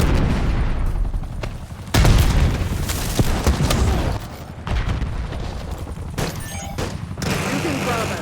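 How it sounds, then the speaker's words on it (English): A Semtex grenade explodes in the Call of Duty video game, and a deep boom is followed by further blasts and gunfire in a loud, dense battle mix with voice callouts. "Semtex grenade"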